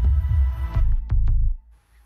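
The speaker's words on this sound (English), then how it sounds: "a film where Europe's heartbeat can't only be seen, but also heard" A deep, booming heartbeat from a promotional campaign film for North Rhine-Westphalia, several heavy low thumps in a pulsing rhythm, loud and close, fading out at the end.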